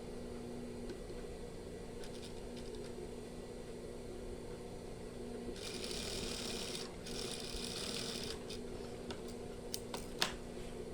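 Sewing machine stitching a batik shirt with lining, a soft steady whir running under quiet room noise, with brighter bursts of faster stitching in the middle and a few small clicks near the end.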